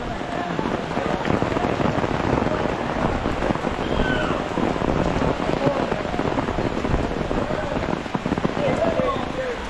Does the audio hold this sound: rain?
yes